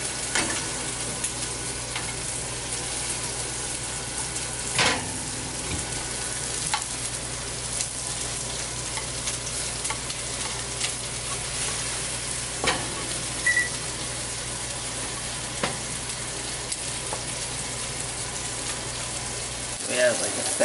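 Food sizzles and fries steadily in a pan, a constant crackling hiss with occasional utensil clinks and stirring, while people talk nearby.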